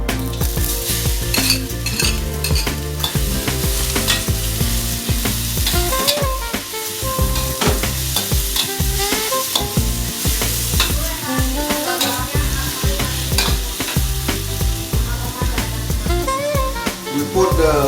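Chicken with lemon leaf and basil fries in very hot oil in a wok for Indonesian woku chicken, a loud steady sizzle broken by frequent scraping stirs and clinks of a utensil, close up, with occasional speech.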